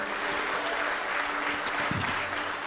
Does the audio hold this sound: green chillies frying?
no